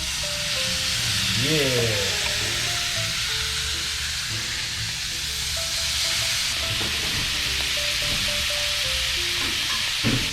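Ostrich steaks sizzle in hot butter in a pan, a loud, steady frying hiss that runs the whole time while someone talks over it briefly.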